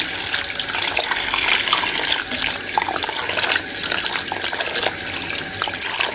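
Hot tap water running over vintage 1990s mermaid dolls as they are rinsed off in a sink, a steady close splashing stream with no talk.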